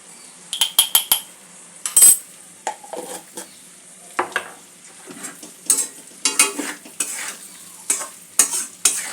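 Cauliflower and potato sautéed with spices in a pan over a low-to-medium gas flame: a steady sizzle broken by repeated scraping stirs and clinks of a spatula against the pan, close and alone.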